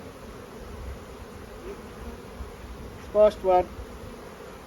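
Calm honey bees buzz around an open hive during a nucleus colony transfer, a soft steady hum with a few louder passes close by; someone speaks briefly near the end.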